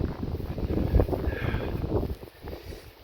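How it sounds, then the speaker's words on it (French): Steady wind gusting and rumbling against the microphone outdoors in the Vosges, a low continuous roar that swells and eases. "le vent se lève"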